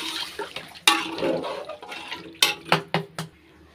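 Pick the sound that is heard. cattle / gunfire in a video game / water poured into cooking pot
water poured into cooking pot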